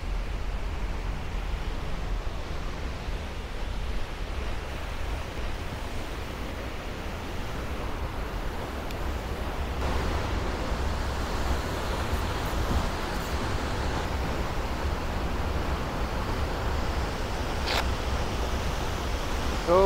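Tuasan Falls in Camiguin pours in a continuous broadband roar, dense and even like rushing water, steady for the whole stretch with no voices.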